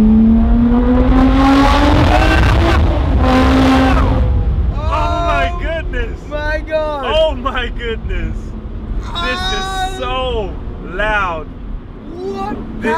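A Lotus Exige Sport 380 engine with the roof off drones and revs through rising and falling pitch sweeps while driving, with excited voices talking over it much of the time.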